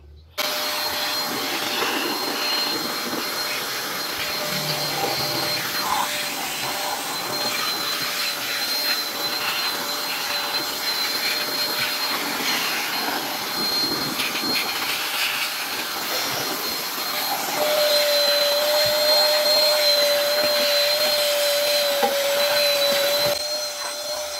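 A steady, loud air compressor blower roar runs throughout with a faint whine, rising slightly near the end, during a matte paint job, with no one speaking.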